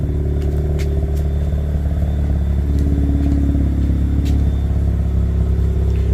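A Mazda RX8 rotary engine idles steadily at close range with its radiator fan running, a continuous even low hum and rumble with faint ticking throughout.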